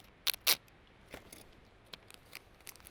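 Two quick crisp snips of scissors cutting stinging nettles close by, followed by faint soft rustles and small clicks in a quiet setting.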